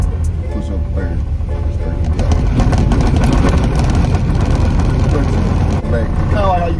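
A Chevrolet S10 pickup with a manual transmission runs with a steady, close engine drone and rumble while gears are shifted, continuous under excited talk from people inside the cab.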